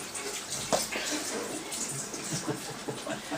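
During a magic trick, water is pumped and poured into a cup, giving a continuous gushing, splashing rush at moderate loudness, with faint voices in the background.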